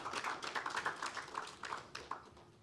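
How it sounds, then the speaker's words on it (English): Audience applause at a bank's annual financial results presentation, a steady patter of many hands clapping that swells briefly and then thins out, moderately distant, with no voices over it. "I thought that deserves a round of applause"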